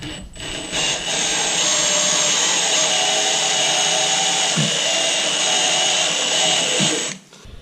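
A power drill bores a hole during a rock guard and step install on a 2024 Polaris Ranger XP 1000, a loud continuous whirring grind lasting about six seconds, close up and alone.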